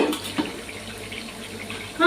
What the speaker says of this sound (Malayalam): വെള്ളം തിളക്കുമ്പോഴേക്കും അരി വാർത്ത് വെക്കാം.